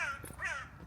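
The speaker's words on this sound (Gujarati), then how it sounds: "ઓ કાગડો બોલે છે." A crow caws outdoors on a cold day during a walk to go shopping, a short, faint, somewhat distant harsh call heard alone.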